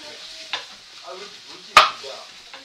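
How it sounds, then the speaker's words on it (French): Sliced onion rounds stir and sizzle in a hot pan in a home kitchen while panini are prepared, a soft crackling frying hiss with a few sharp clatters, one loud utensil strike standing out. "on va snacker un peu les oignons"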